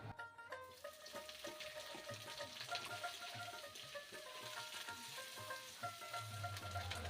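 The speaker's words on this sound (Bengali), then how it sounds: "তেল গরম হয়ে গেছে, এবার মাছগুলো ভেজে নেব।" Dried fish frying in hot oil in a pan, a continuous close crackling sizzle that stays steady and fairly quiet throughout, with no talking.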